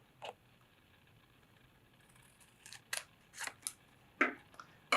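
Scissors snipping through a paper circle, a few short separate cuts near and fairly quiet, one early and a cluster later, with no talking.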